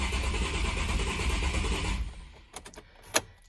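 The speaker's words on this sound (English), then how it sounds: "Sounds like there's a cylinder misfire" A Nissan 350Z HR engine with a suspected cylinder misfire runs roughly for about two seconds before cutting out, followed by a few sharp mechanical clicks and a knock in the quiet.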